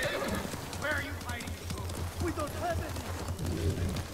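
Horse in the Ghost of Tsushima game whinnying over steady clip-clopping hooves, while people talk over it throughout.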